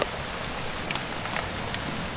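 Steady rain falling outdoors on a steep, mossy path down to the sea in Bacon, Sorsogon, a constant broadband hiss with scattered louder drops and no voices.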